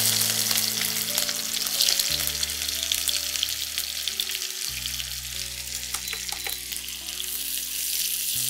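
Onions frying in plenty of oil to make beresta, a steady close sizzle with stirring throughout, under a low continuous hum.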